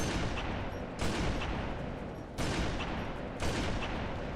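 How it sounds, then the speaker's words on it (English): A sniper rifle fires in modded Halo 3, three loud, sharp shots spaced about a second apart, each one followed by a rumbling tail. "I'm going to take this information and see how when I fire the sniper it goes."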